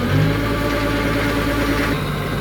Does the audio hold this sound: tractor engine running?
yes